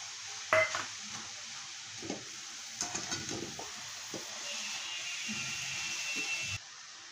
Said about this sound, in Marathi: खवा आपल्याला सगळ्या ह्याच्यात मिक्स करून घ्यायचा आहे.